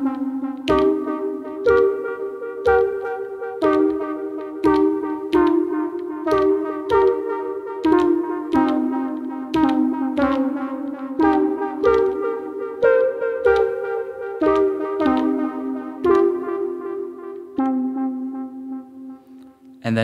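An Elektron Digitone step sound played with two notes loops as a steady rhythmic sequence of bright, plucky synth hits alternating pitches over about twenty seconds, with no talking.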